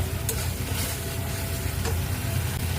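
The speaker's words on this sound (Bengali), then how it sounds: "মশলাটা আবারও ভালো করে কষিয়ে নেব" Masala spices fry in a hot pan with a steady, close sizzle and crackle that runs unbroken all the way through, with no talking.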